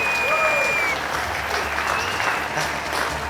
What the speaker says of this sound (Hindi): जोरदार तालियां हो जाए हमारी ज्योति भाभी के लिए